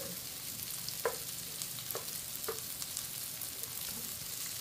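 Sliced lechon sautés with onions in a pan for pansit sotanghon, giving a soft, steady sizzle with a few light utensil taps on top, fairly quiet and with no voices.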